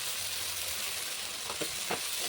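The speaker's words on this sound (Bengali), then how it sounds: "ভালো করে ভেজে নেব।" Cumin paste, turmeric, salt and dry red chillies fry in a pan for a rohu fish curry with potatoes. A soft, continuous sizzling hiss fills the whole moment, with a couple of faint scrapes of stirring late on.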